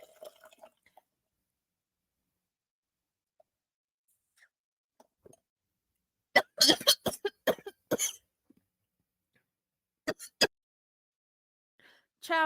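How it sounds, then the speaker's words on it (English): A person coughs after choking, a cluster of short, dry coughs in mid-clip and two more a moment later, near and fairly loud against a quiet background. "I just started choking. Y'all heard me cough a little bit."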